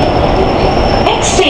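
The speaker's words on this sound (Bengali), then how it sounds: "খুব ফাস্ট জার্নি এই মেট্রো" A Kolkata Metro Green Line train runs between stations with a dense, continuous rumble and a faint high whine, and a few brief higher sounds surface near the end.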